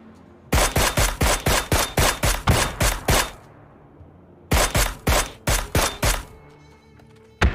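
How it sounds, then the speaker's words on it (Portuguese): AK rifle fire in the video game PUBG on the snowy Vikendi map: two loud, rapid bursts of evenly spaced shots, separated by a short pause, with no talk over them. "Caralho, quanto tiro de AK?"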